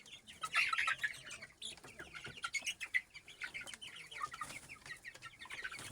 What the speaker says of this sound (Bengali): ভাই ছোট ছোট মোরগ দেখছেন,